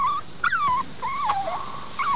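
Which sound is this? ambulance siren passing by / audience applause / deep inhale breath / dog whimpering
dog whimpering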